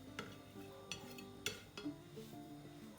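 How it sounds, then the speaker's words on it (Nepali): Semolina batter with chopped ginger, garlic, onion and chili being stirred in a bowl, with soft scraping and a few sharp utensil clinks against the side, close and quiet, no talking. "यसलाई चाहिँ म यहाँ मिक्स गर्छु"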